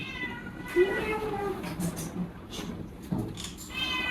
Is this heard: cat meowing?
yes